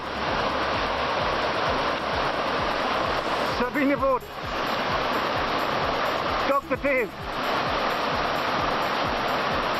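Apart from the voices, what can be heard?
flowing river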